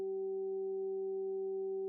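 Three pure sine test tones at solfeggio healing frequencies hold steady together, clean and continuous, with no other sound.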